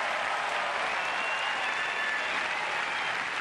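Tennis crowd at Queens Club applauds after the 2006 final between Hewitt and Blake, a dense, sustained clapping that stays loud and even throughout with no pauses.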